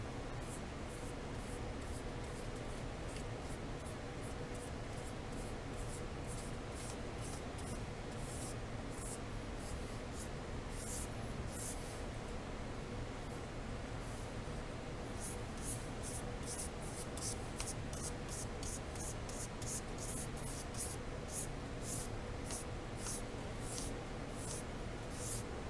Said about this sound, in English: We'll brush a coat on here, let it dry